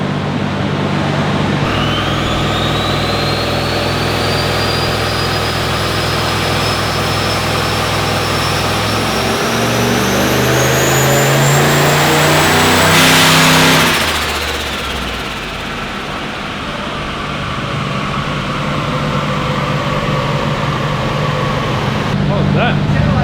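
A turbocharged LS1 V8 in a backyard-built VY revs hard, loud and close, with a rising turbo whine that climbs to a sharp, loud burst when it hits overboost, then drops back to a rough, lumpy idle.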